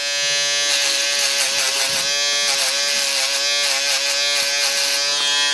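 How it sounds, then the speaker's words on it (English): An electric hair trimmer cuts a fade line during a drop fade haircut, giving a steady, close, high buzz that runs unbroken for the whole stretch with no talking. "We just put a fade line in with the trimmer."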